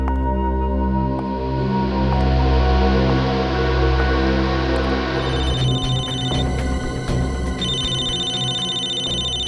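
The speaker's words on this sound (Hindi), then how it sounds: "दया इसके मोबाइल पे क्यों फोन कर रहा है?" A mobile phone rings with a repeating electronic tone under a dense, sustained musical drone, and the ringing carries on as the backing thins and shifts partway through.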